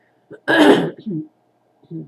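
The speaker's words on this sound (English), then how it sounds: "Sorry, you'll have to forgive my coughing." A couple of rough throat-clearing coughs burst out close by, followed by a few quieter throaty rasps after a pause.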